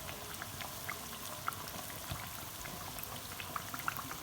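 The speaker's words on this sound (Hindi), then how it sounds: "इसी तरह हमने दूसरी साइड से भी इसको मीडियम फ्लेम पर कलर दे देना है" Aloo kachori deep-fries in oil over a medium flame, a soft, steady bubbling hiss with scattered tiny pops and crackles, faint and continuous throughout.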